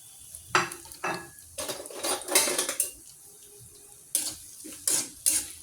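Onions frying in hot oil in a pan while being stirred, with repeated clattering spoon-on-pan scrapes and bursts of sizzle over a quieter steady frying hiss; no talk.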